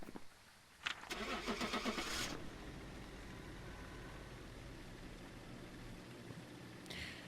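A car engine starts in the game Phasmophobia with a brief cranking whir, then settles into a steady low idle rumble, with a faint click near the end.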